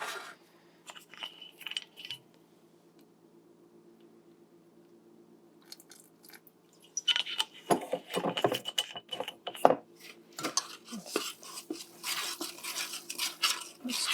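A spoon stirring vanilla into a pot of Coca-Cola cake frosting, the metallic scraping and clinking rising after several quiet seconds and continuing in busy, irregular bursts, with no voices.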